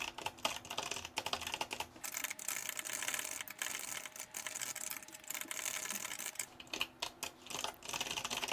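Code being typed on a computer keyboard, rapid continuous clicking of keys close to the microphone with short irregular pauses throughout, no talking.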